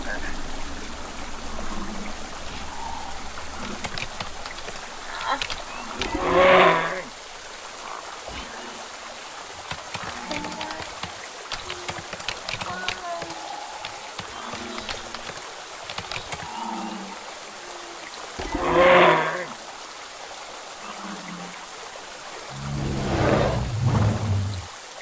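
Rain falls in the dinosaur survival game The Isle as a soft, continuous patter and trickle, faint in the background, with a few louder bursts of other game sounds breaking through at intervals.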